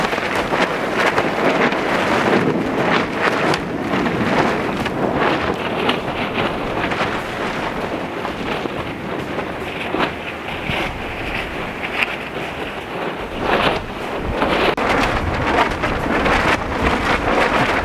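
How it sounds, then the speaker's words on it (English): Heavy monsoon rain moving in over a building site with wind: a loud, continuous roar of rain and gusts buffeting the microphone, with rumbling low surges that may be distant thunder, steady throughout with a few brief swells. "Looks like it's pouring there."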